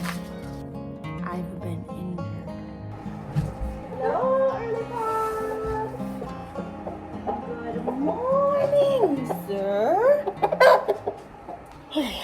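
A chicken clucks from inside a crate on a homestead in the morning, with a string of rising, squawky calls in the second half over a quiet outdoor background.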